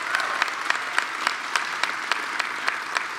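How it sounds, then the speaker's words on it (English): An audience applauds for Everytown Gun Safety at a Long Island announcement by Governor Andrew Cuomo, with steady, moderately loud clapping and a few sharper individual claps standing out in a regular rhythm. "Let's give them a round of applause."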